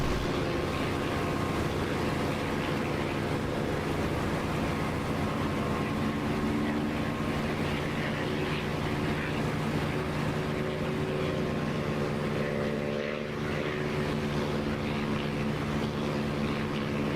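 An aircraft engine roaring at full throttle during takeoff and climb in the DCS flight simulator, a constant heavy droning hum with a steady propeller-like rumble that holds unbroken throughout.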